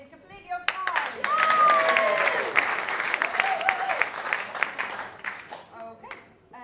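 A book festival audience breaks into brief applause, a short burst of clapping that rises quickly, holds for a few seconds and tapers off, with voices heard over it at the start and end.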